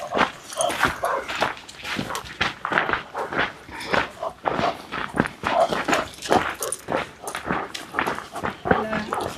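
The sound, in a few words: dog on a coastal hiking trail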